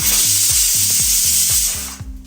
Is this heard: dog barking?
no